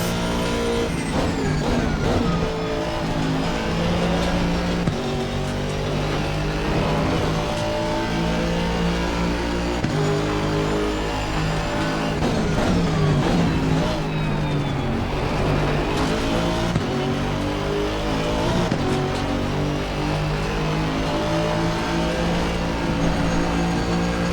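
Aston Martin GT race car in Assetto Corsa Competizione lapping Mount Panorama, its engine droning loud and steady for the whole stretch with shifting revs, gear changes and rising pitch sweeps, no voices.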